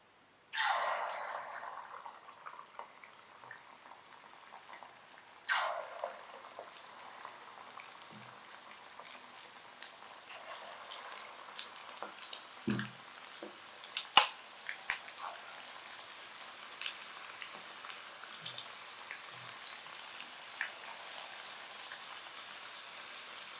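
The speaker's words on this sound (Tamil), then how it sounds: "ஸோ ஃப்ரை பண்ண ஆரம்பிச்சிடுறேன்." Marinated chicken lollipops dropped into hot oil for deep frying, two loud bursts of bubbling sizzle that settle into a steady crackle with scattered pops and drips, no talk.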